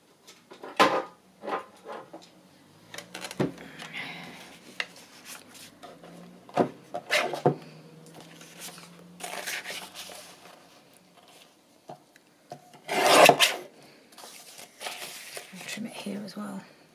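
Paper for a Christmas journal is handled and trimmed, with soft rustles, crinkles, scrapes and sharp little taps scattered through, one louder burst of crinkling near the end, and a voice speaking quietly at times.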